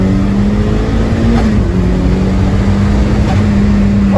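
Turbocharged 2003 Mazda Miata NB2 pulling hard in third gear from about 4,000 rpm, a loud, steady engine drone with a low tone that climbs and breaks briefly at gear-like steps, heard from inside the car.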